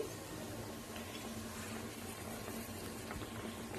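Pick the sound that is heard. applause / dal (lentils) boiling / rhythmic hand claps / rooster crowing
dal (lentils) boiling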